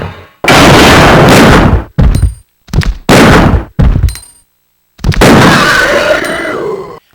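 Weapon gunfire in Resident Evil 2, several loud, sharp blasts in an uneven sequence, each cut off by short silences, with a longer rumbling shot at the end.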